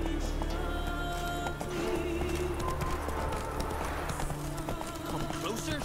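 Roach, the horse in The Witcher 3, gallops with steady hoof clatter amid continuous game music and ambience, with a voice speaking briefly over the action.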